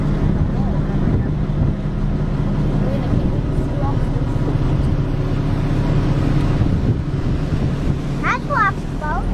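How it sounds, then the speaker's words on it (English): A lobster boat engine drones low and steady across the whole stretch, with wind buffeting the microphone and a few bird calls near the end. "That's lobster boat."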